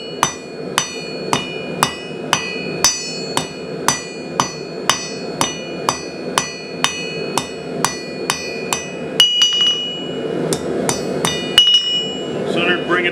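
Hammer blows forging 3/8-inch square steel stock on an anvil, about twenty loud ringing strikes at a brisk even pace, then a short gap and a few irregular hits with a scrape near the end.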